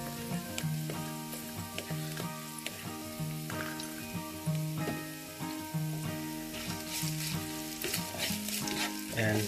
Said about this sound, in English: you just want to mix that with your onions and your curry leaf